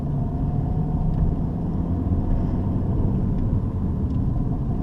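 Toyota Starlet car pulling along in second gear, a constant low engine rumble and road drone heard from inside the cabin, steady and even with no talk.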